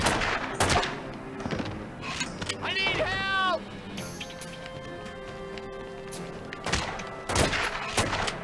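Gunfire in The Godfather: Part II video game cracks out in sharp scattered shots near the start and end, with a warbling game tone in between, over a background of voices.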